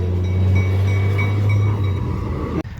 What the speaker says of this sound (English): When I hear that whistle blowing